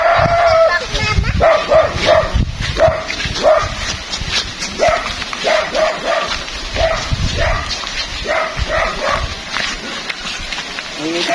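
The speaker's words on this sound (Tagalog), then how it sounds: "Yung aso." A dog barks, yips and whimpers repeatedly at close range, with people talking throughout.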